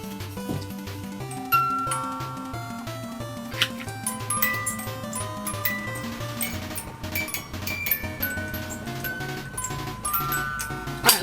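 A Legend of Zelda music toy plays the Song of Time melody in tinkly, music-box-like notes over a busy backdrop, fairly quiet and close.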